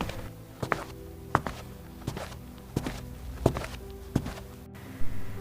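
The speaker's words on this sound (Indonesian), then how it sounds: "Ho Il Kyung mendengar langkah kaki." Footsteps sound effect in an Indonesian audiobook: about eight distinct, evenly paced thudding steps on a hard floor, close and clear against a quiet background, with no narration over them.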